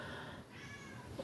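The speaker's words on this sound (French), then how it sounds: "si vous entendez miauler en bas, c'est Tempo" A pet cat named Tempo meows somewhere downstairs, a faint, distant call against a steady hum of room noise, with no talking.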